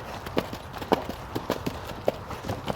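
A horse canters nearby, its hooves striking in quick irregular clip-clop groups over faint background noise, the thuds fairly soft and evenly spread across the short stretch.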